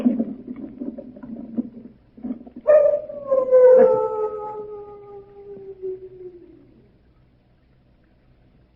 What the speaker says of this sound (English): Only the dogs, monsieur.